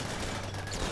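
A rapid volley of gunfire from colonists in the Rimworld colony game, dense and continuous throughout the short burst with no talk.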